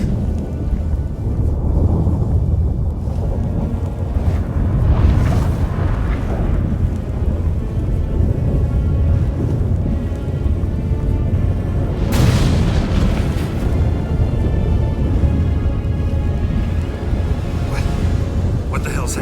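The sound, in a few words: thunderstorm in The Witcher 3 video game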